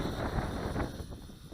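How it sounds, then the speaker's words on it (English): Steady wind buffeting and rumbling against a microphone, a constant low roar with slight gusts throughout. "Really windy out right now."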